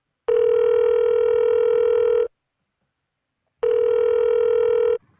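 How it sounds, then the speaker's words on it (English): Two long, steady electronic beeps from a voicemail system, each about two seconds, separated by a brief silence, loud and clear with no talking. "Please leave a message after the tone."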